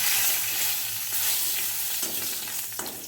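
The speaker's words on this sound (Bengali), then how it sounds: "আমি তেলের মধ্যে একটু জিরে দিয়ে দিচ্ছি, শুকনো লঙ্কা, তেজপাতা।" Cumin seeds, dried red chillies and bay leaves hiss and crackle in hot oil, a loud, continuous sizzle with occasional stirring scrapes near the end.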